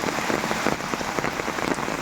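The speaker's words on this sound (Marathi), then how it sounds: "हा पाऊस परत हे बघा जोरदार इलो परत" Heavy monsoon rain in the Konkan pours steadily, a dense, loud hiss of drops pattering on a surface with no voices.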